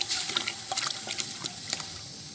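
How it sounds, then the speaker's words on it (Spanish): Water poured into a cooking pot for boiling shrimp, an uneven splashing and trickling stream with small bright spurts, close and moderately loud, no voices. "Ahí está la cantidad de agua que se le echa, no se le echa mucha agua."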